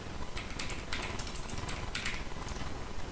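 Someone types a string variable into Java code on a computer keyboard: quick bursts of close, crisp key clicks over a steady background hiss.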